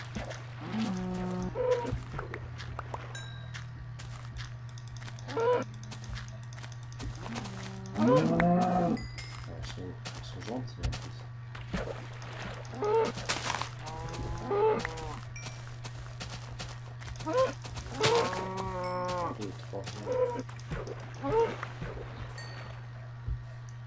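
Cows in the Minecraft video game moo over and over across the stretch, several drawn-out bovine calls set over a steady low in-game hum, with someone talking in French in between.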